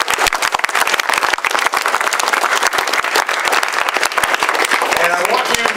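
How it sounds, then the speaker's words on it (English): Dense, loud applause from a conference audience of students and educators honoring community colleges, many hands clapping steadily throughout with scattered crowd noise mixed in. "Give community colleges a round of applause for what they do for America"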